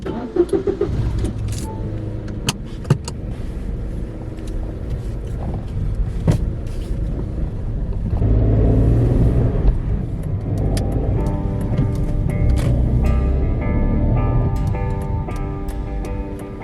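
Car interior on a long countryside drive in Sweden, a steady engine and road rumble throughout, with clunks and rattles early on and a louder surge of road noise partway through, no talking.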